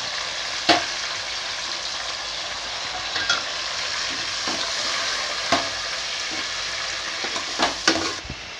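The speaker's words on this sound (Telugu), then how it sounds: "తర్వాత వేగిపోయిందండి టమాటా ముక్కలు వేసుకుందాము" Tomato pieces fry for a ridge gourd curry, giving a steady sizzle broken by a few soft stirring clicks and pops, close and alone.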